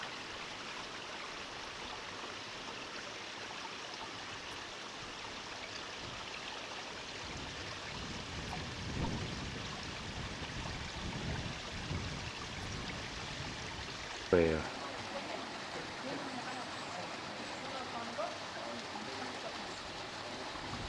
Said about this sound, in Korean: 높이 10m가량 되는 중원 폭포에 다시 돌아왔습니다